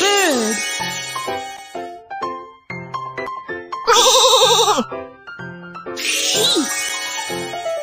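A cartoon sheep bleats in a wavering, vibrato cry amid playful jingles and short chime notes, with a child-like voice talking around it in a children's hearing-test game.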